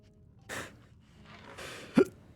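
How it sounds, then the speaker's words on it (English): A character in Skyrim hiccups: a couple of soft breathy sounds, then one short, sharp, close hiccup near the end, with quiet background otherwise. "Oh, you gave me the hiccups with that one."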